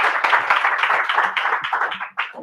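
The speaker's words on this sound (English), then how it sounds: "can y'all just stand up and let's just clap for this man as he's coming to the stage" A crowd claps and applauds steadily as a man walks up to a stage, the dense clapping running throughout with a brief dip near the end before resuming.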